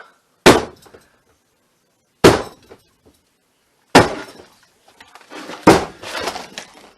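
Glass smashed with a hammer in four sharp, loud crashes spaced a couple of seconds apart, each followed by tinkling shards, the last strike trailing into scattered rattling debris.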